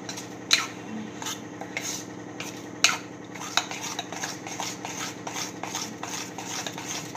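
A spoon stirs rava dhokla batter in a large bowl in steady, rhythmic strokes, with occasional sharp clinks against the bowl's side, close and moderately quiet.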